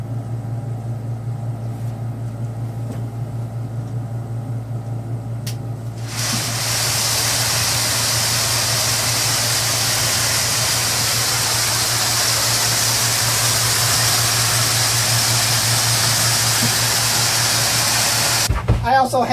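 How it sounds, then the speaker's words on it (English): A custom stainless steel shot tumbler in a tiny mobile trailer workshop starts up after a low steady hum and runs as a loud, even hiss and rumble until it stops near the end. "here's a sneak peek at my custom-made stainless steel shot tumbler that I made just for my tiny trailer"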